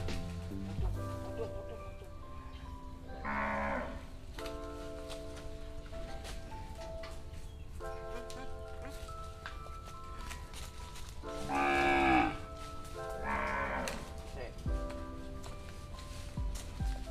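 Hersteo-cross calves and cattle mooing in a farm pen, several drawn-out moos at different moments, one loud and close near the middle, over a steady low background hum with faint voices.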